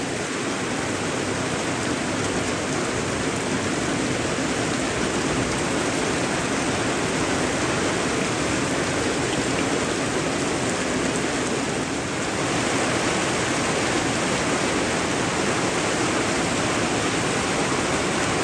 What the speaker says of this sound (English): What a rainy day in our village.